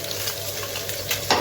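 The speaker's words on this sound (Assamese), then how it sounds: "এইফালে ভাজি হৈ আছে" Vegetables fry in a kadai with a steady, close sizzle, while a utensil stirs and scrapes through the pan a few times.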